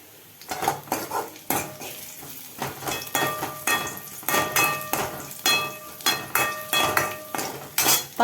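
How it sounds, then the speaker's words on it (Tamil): Tomatoes going into a pan for a mochai bean masala and being stirred, with a rapid series of loud metallic spoon scrapes and clanks against the pan, rhythmic and close, over a faint sizzle. "இப்போ தக்காளி போட்டுறேன் நான்."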